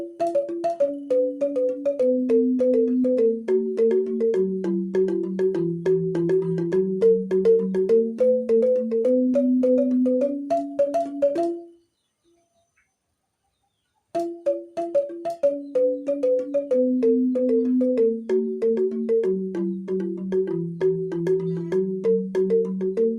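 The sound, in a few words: Balinese rindik bamboo xylophone played at faster tempo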